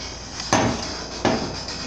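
Two sharp metallic hammer strikes on a punch while replacing a Dodge Caravan 3.3 V6 fuel pump, spaced under a second apart, close and ringing against a steady background hiss.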